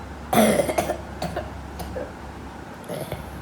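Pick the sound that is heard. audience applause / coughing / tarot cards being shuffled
coughing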